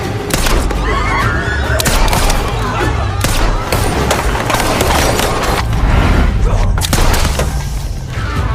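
Action-movie battle with a woman shooting down a string of assassins, loud, dense gunfire and booming blasts packed together continuously, heavy and close throughout, with a voice mixed in.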